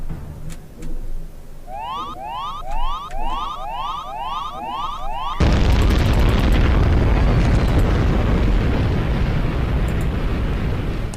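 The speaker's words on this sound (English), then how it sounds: "Wow, I forgot about the bombs." Bombs go off in the video game Syndicate Wars, with a run of repeated bouncy electronic tones giving way to a loud, continuous roaring blast that holds to the end.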